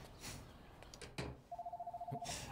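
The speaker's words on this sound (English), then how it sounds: "Don't pick up the damn phone!" A telephone rings in an anime scene, a repeated pulsing electronic ring of about a dozen quick bursts that follows a couple of brief knocks and clatters, fairly faint against a quiet background.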